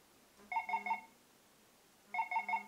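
A phone notification alert plays twice, each a short bright chime of three quick repeated tones separated by a pause of about a second, clear and quiet against near silence.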